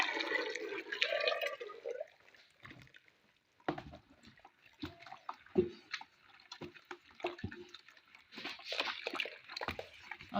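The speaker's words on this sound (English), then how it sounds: "I will now pour in my palm kernel oil and soda ash mixed." A palm kernel oil and soda ash mixture is poured and sloshed during bar soap making, heard as faint liquid splashes and irregular drips and knocks separated by quiet gaps.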